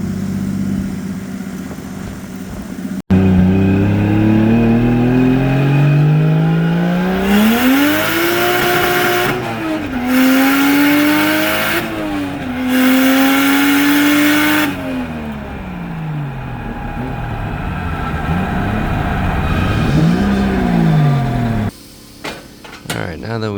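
A drift car on a test drive revs hard with repeated rising and falling engine sweeps, loud and close, with short gaps where the pitch drops between pulls.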